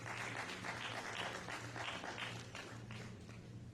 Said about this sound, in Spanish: También un aplauso